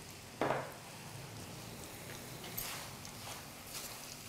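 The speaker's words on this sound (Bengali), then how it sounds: "এই ফাঁকে আমরা একটু ডালের বড়ি ভেজে নিই ওপরে গার্নিশ করার জন্য" Dal bori, small lentil dumplings, frying in a pan as a garnish, a soft continuous sizzle with an abrupt crackling burst as they go in and a few faint scrapes of stirring.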